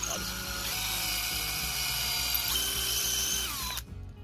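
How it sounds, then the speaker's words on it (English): A power drill bores pilot holes into a garage wall stud to mount a bike lift pulley hoist, its motor whining steadily and loudly for almost four seconds before spinning down and stopping. "now that we have the 4 pilot holes drilled in here"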